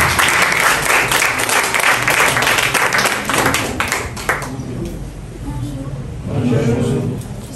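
Audience applause at an investment company inauguration event, loud dense clapping that holds steady, thins briefly, then swells again near the end.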